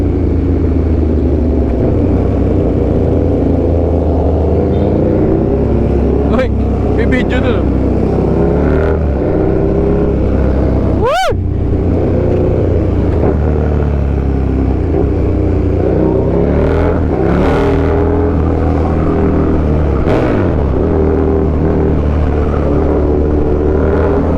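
A KTM Super Duke sport motorcycle engine drones steadily while riding through a tunnel, with heavy wind rush and occasional revs. A voice speaks faintly beneath the engine noise.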